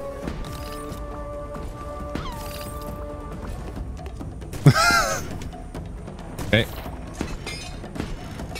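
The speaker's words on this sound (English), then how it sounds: "Oh, got a bird for you." A bird caws a couple of times around mid-clip in the pirate video game Ship of Fools, sharp and fairly close, set against game music and a steady background bed with brief talk.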